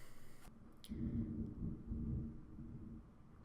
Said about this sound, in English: Fucking thunder.